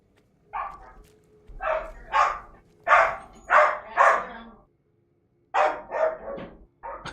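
A dog barks repeatedly up close, a run of sharp excited barks, a brief pause, then several more in quick succession.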